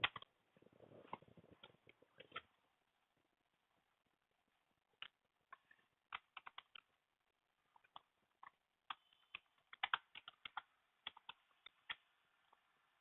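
Keystrokes on a computer keyboard as a Kubernetes command is typed, a dense burst of soft clicks at first, then scattered single taps and short irregular runs, fairly quiet and with no talking.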